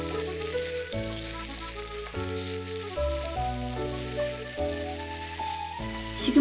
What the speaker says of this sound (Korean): 팬이 뜨거워지면 시금치와 당근을 넣고 소금 한 꼬집을 넣어